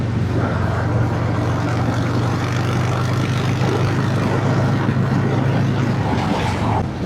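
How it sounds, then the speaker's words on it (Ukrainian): A 2025 Harley-Davidson Fat Boy motorcycle engine idles with a steady, loud, deep rumble that holds evenly throughout and eases slightly at the very end. "Так приємно урчить двигун."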